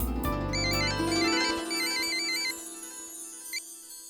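An electronic phone ringtone trills in a repeating warbling pattern, loud and close, then fades out near the end.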